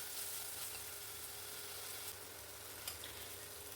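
Small onions sautéing in a pan for a Kerala choora (tuna) fish curry with kudampuli, giving a faint, steady sizzle throughout with no one talking.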